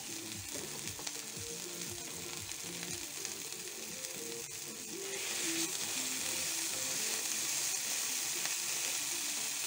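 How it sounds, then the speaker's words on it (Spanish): A burger bun sizzles as it toasts in a hot pan, a steady close frying hiss that grows louder and brighter partway through. "un pan que lo he cortado antes y lo voy a poner a tostar"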